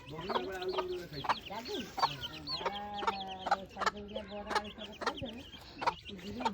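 A chicken clucks close by in a rapid, uneven series of short calls, with a few longer drawn-out notes mixed in, clear over quiet surroundings.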